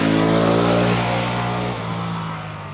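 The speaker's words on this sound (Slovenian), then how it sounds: "Sem in tja pride mimo kakšen avto." A car passing along a wide rural road on a climb, a loud steady engine drone that slowly fades as it moves away.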